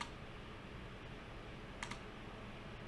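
Computer keyboard keys pressed, including backspace, as a faint soft tap followed by a quick double click near the middle, set against a steady background hiss.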